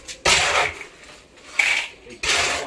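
A mason scoops mortar mix into a metal pan beside a well, giving three distinct bursts of gritty scraping and rasping, close and fairly loud, separated by brief quieter gaps.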